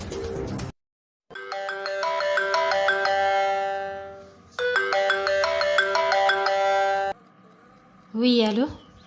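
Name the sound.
telephone ringtone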